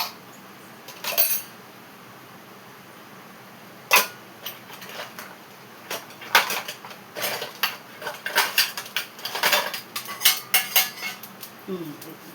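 Steel bowls and dishes being handled in a kitchen, scattered metallic clinks and clatters, sparse at first then bunching into quick repeated knocks near the end.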